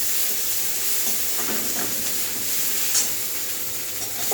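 Ginger garlic paste fries in oil for khichuri, a dense, close hiss and sizzle that holds steady throughout, with a faint stirring clink near the middle.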